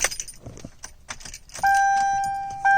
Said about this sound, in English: Let me turn the ignition on.